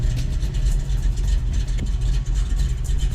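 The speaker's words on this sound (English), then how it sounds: "The Cuda pulls up alongside the Tesla." A classic Plymouth Cuda muscle car rumbles as it rolls up alongside a Tesla, a loud, close, throbbing low engine note with an uneven, lumpy pulse and no voices over it.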